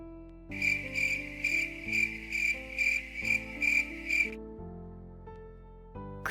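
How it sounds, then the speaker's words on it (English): Crickets chirp in a close, steady pulsing run of about eight bursts, then fall silent, leaving a quiet low hum. "Crickets."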